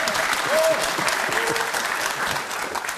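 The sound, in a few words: studio audience applause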